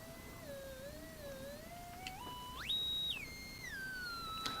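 A pure electronic sine wave tone from an audio waveform generator kit glides and steps up and down in pitch, thin and steady over faint background hiss.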